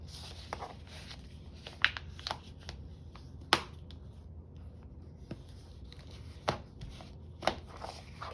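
Scissors cut paper for a junk journal, giving a series of crisp snips and rustles at irregular intervals, with a few sharper clicks, close up and quiet, with no voices.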